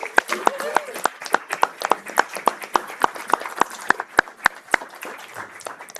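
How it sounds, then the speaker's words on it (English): Audience at a city council meeting applauding a student robotics team, a modest group of distinct, fairly rhythmic hand claps ringing out close and clear in a quiet room. "Let's give them a big round of applause."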